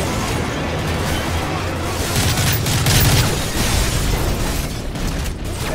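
A grenade blast in Call of Duty Modern Warfare 3, a loud rumbling explosion swelling within ongoing combat noise and dying away slowly.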